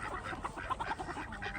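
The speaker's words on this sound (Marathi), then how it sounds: "4 बदकं आहेत आपल्याकडे." Four farmyard ducks quacking softly in a quick, irregular series of short nasal calls, faint and somewhat distant, with no voices.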